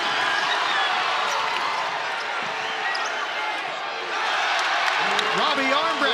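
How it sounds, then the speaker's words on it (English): Loud, sustained roar of a college basketball arena crowd cheering for a walk-on player at a Bryant versus Houston game, dense and continuous with a brief dip midway, voices and whistles mixed in. "The largest cheer tonight is for Ryan Elvin"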